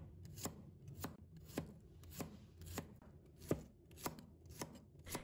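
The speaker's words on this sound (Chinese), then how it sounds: "接下来我们准备一把大蒜， 给它切成蒜片。" A knife slices garlic cloves into thin pieces on a cutting board, making crisp, close taps at a slightly uneven rhythm, about ten strokes with no talk.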